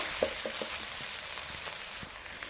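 Noodles for king prawn chow mein frying in a hot pan, a steady sizzle with a few sharp clicks and scrapes as they are stirred, close and moderately loud.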